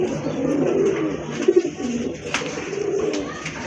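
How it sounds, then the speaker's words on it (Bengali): Pigeons, pairs of Rajshahi Giribaz and other breeds kept for sale, coo softly in low rolling bursts over a steady background of more birds, with a brief sharper note near the middle. "মাশাআল্লাহ আরেক জোড়া কবুতর"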